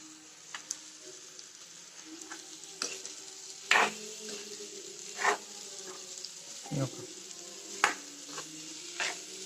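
Peeled peanuts are stirred into a pan for a snack, giving quiet scraping and clinking at irregular intervals over a faint sizzle, with several sharper knocks as the spoon strikes the pan.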